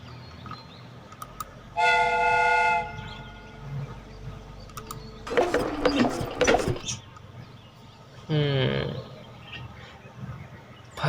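A replica train's steam whistle in a Sherlock Holmes video game, two sustained whistle blasts separated by mechanical clanking and hissing over a low rumbling background.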